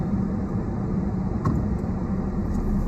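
A car rolls off after its brake is released, its engine giving a continuous low rumble up close with a brief click partway through and no speech.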